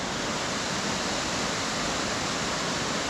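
Stichill waterfall pours over a shallow, boulder-strewn river, a steady, dense rushing roar that stays constant throughout with no voices.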